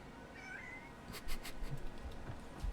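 A cat gives a few soft, brief meows in a quiet indoor space, faint against a low background hum, with some light thumps near the end.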